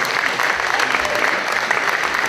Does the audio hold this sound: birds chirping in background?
no